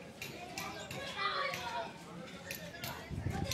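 Children playing outdoors beside a flooded drain, their voices and shouts bustling at mid distance, continuous, with a few sharper calls standing out and some low rumbling underneath.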